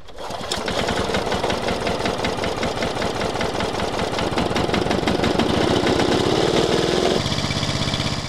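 A 40-year-old British ride-on lawn mower engine starts and settles into a loud, steady chattering run close by, its pitch rising slightly before dropping near the end.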